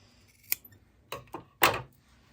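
Scissors snip through quilt fabric while a quilt block is trimmed, giving three or four crisp, close cuts in an uneven rhythm with short quiet gaps between them.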